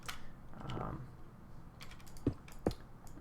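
Keys of a mechanical keyboard clack in a few sparse, crisp presses near the end, faint and close, preceded by a soft murmur of voice.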